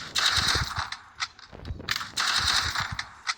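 Video game gunfire from an UMP in Free Fire, heard as two rapid automatic bursts with short pauses and a few single shots between them, fairly close and clear.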